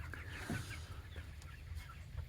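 Chickens in a backyard coop with soft, intermittent clucks over a low steady background, fairly close and moderate in level, with no talking.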